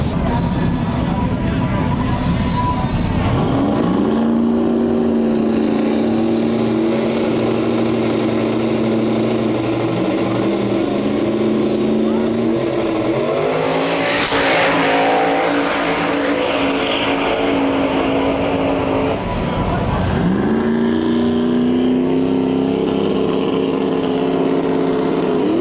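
Race cars on small 26-inch tires roar around a dirt race track, with loud engines revving and droning steadily up close and pitch swells as cars pass. A voice talks over the engines.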